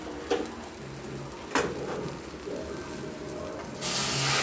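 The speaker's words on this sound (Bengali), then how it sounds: "এবার গরম জলটা দিয়ে দেব" Hot water poured into a pan of simmering pabda fish curry with mustard and poppy seed gives a steady hiss and sizzle with a few brief bursts, then swells into a loud, rushing spray near the end.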